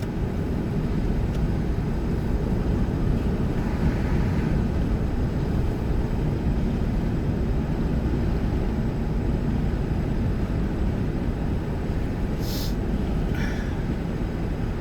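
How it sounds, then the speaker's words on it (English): Wind buffets a microphone outdoors as a constant loud low roar that masks nearly everything else, with a faint brief higher sound near the end. "lovely bit of wind in my face. Right in my face."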